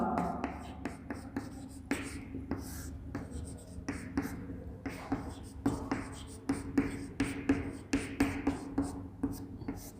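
A pen or chalk scratches out notes during a physics explanation of resultant forces, making a steady series of short, close scraping strokes that repeat at an even pace for the whole stretch, with no talking.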